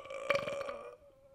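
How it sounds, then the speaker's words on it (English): A single drawn-out burp after drinking a carbonated drink, loud and close, with a croaky pulsing texture that fades into a short tonal tail. "How many burps have been burped?"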